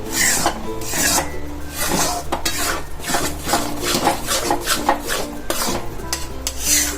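A spoon rasps and scrapes steadily through a thick gol papdi mixture of desi jaggery in a pan, close and loud in a continuous rubbing rhythm with no talk.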